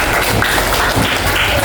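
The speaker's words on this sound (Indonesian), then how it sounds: "Boleh tepuk tangan lagi anak-anak untuk Aisyah." A classroom of schoolchildren clapping for their classmate Aisyah, a steady, dense patter of many small hands that fills the room without pause.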